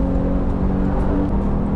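A manual Porsche 911 Carrera GTS (991.2, 450 hp) engine pulls high in the revs, a loud steady drone with a low rumble heard from inside the car.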